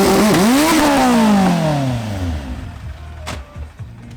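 Honda Civic and Audi RS3 in a ten-second-class drag race duel: a loud engine roars at launch with falling pitch sweeps as the cars pull away and fade into the distance.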